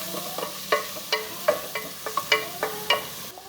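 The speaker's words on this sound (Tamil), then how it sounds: "எல்லாத்தையும் சேர்த்து நல்லா நம்ம வதக்கிக்கலாம்" Tomatoes and other vegetables sizzle in a hot pan while a utensil stirs and scrapes them in irregular strokes, close up.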